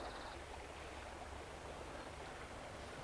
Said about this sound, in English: It's where one of the smaller tributaries of the river meets the main river, and it's formed a very deep pool here.